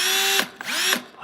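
A Milwaukee cordless drill whirs at high speed, its motor whine spinning down and revving up again in short bursts, loud and close with no talk.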